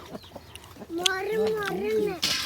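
Village chickens being fed cluck in short bursts close by, one drawn-out cluck standing out, while people talk nearby.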